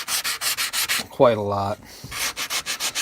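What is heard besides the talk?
sanding with sanding sponges on a rifle stock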